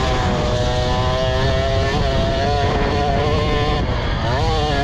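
A youth motocross bike engine drones steadily through a race, its pitch rising and falling as the rider opens the throttle more, loud and continuous with faint talk underneath.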